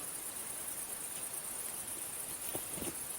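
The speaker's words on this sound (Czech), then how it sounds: "Cikády pějí" Cicadas singing outdoors near a silage area in northern Czechia, a steady high buzzing drone that carries on alone, with a few faint knocks near the end.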